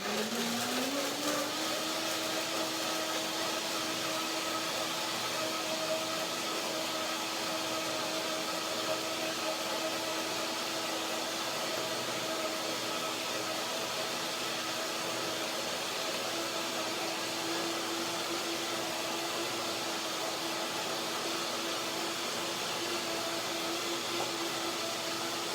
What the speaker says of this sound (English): First blender dance